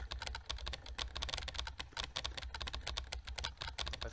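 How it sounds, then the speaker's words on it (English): Rapid, steady keyboard typing from the game Emily is Away, dense clacking keystrokes running continuously and close up with no voices. "I feel like a professional typer every time I do this."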